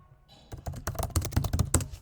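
Rapid typing on a computer keyboard, a close, dense run of crisp key clicks and thocks in quick irregular rhythm, with no voices.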